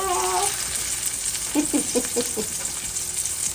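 Vegetable fritter sizzling in a hot frying pan, a steady close crackle with a few soft thuds and scrapes as it is turned over partway through.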